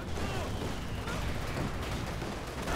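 Rapid anti-aircraft cannon fire from a Flak Panzer tank in a D-Day strategy game, a dense continuous barrage of shots over the whole stretch, loud and steady with battle noise around it.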